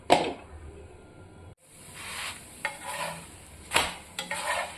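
A pea-stuffed paratha fries in a pan, with a soft sizzle running under sharp clinks and scrapes of a spatula and utensils, a short pause midway, then further stirring and scraping knocks.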